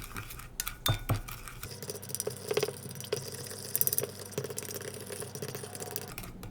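A spoon stirs salt into sushi rice vinegar in a bowl for homemade gimbap, with light metallic clinks and taps scattered over several seconds, close and quiet.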